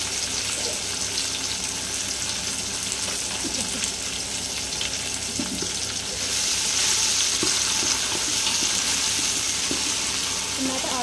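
Tomatoes fry in a pan with a steady, close sizzle and occasional stirring scrapes, the hiss growing louder partway through.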